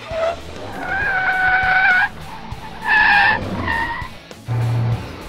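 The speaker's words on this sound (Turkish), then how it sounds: "Bir araba buldum. Güzel araba. Hemen binip kaçmam lazım." Cartoon car in a getaway scene: several bursts of high tire-squeal-like skidding tones, loud and close, separated by short gaps, with a low engine thump near the end and no talking.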